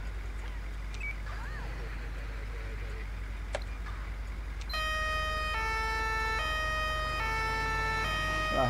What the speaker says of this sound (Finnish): Meillä on nyt sireenikin täällä vähän uudistunut tämän Suomen muodon mukaan.